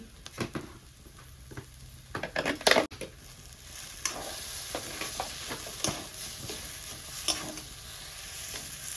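Potato pieces sizzle and fry in a pan for a homemade burger, with intermittent scraping and stirring clatter over a soft, continuous crackle.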